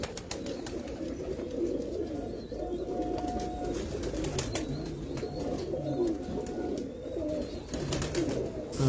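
Pigeons coo in soft, low repeated calls against a steady murmur of background noise, fairly faint and continuous throughout with occasional brief chirps.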